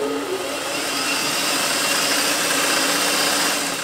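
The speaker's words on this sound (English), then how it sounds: "It's not threaded, so let's try running the machine." A discarded old sewing machine runs unthreaded, giving a loud, steady, close motor whir that holds constant for a few seconds without pauses.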